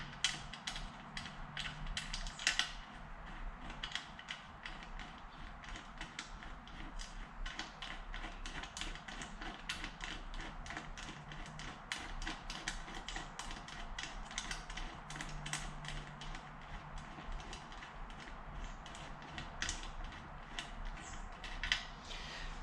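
Faint, continuous ratcheting clicks with small creaks and taps come from a tool unscrewing an 8mm threaded insert during a 2007 Yamaha YFZ450 SE build, steady throughout at close range.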